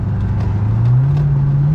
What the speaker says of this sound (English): You guys hear that engine, man? Sounds great.